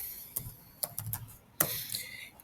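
Several sharp keystrokes on a computer keyboard while entering a formula in a spreadsheet, an uneven burst of close, crisp clicks with short pauses and a louder final key strike, heard alone without talk.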